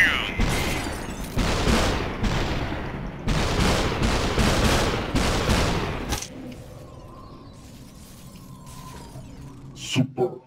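Gunfire and shattering in the video game SUPERHOT, with several loud bursts of shots and crashing glass in quick succession, then a quieter stretch with one more sharp hit at the end.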